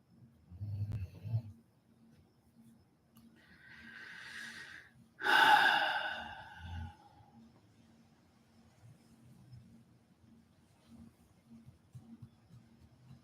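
A dog snores and breathes heavily close by, slow soft snorts and wheezy breaths with one louder gasping snort in the middle, set against a quiet low hum.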